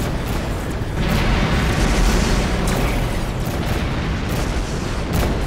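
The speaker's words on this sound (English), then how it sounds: "See, I'm spitting out these flak." Flak countermeasures fired at incoming missiles from a destroyer in the space game Rebel Galaxy give a dense, continuous roar of rapid booms and bursts, loud and sustained throughout with no pauses.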